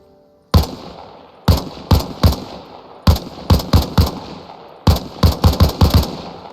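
Video game M16 rifle fire aimed at the rotors of a Mi-8 helicopter: loud, sharp shots in short bursts and singles, about fourteen in all, each cracking and decaying quickly with brief silences between groups.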